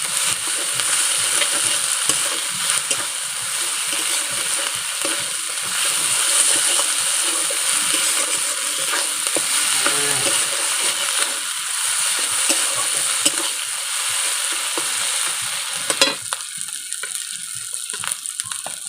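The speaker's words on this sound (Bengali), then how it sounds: "লঙ্কা বাটাটা দিয়ে সমস্ত মশলার সাথে আমি একটু ভালোভাবে নেড়ে চেড়ে নেব।" Chili paste gets stirred with spices in a pan for a sea crab curry, with a dense, steady sizzle and frequent scraping and clinking from the spoon. It stays close and fairly loud throughout, then quietens near the end.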